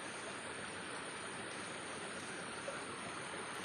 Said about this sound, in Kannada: ಇಲ್ಲಿ ನೀರು ಹೇಗೆ ಬೀಳ್ತುಂಟು ಅಂತ ನೋಡಿ ಗೈಸ್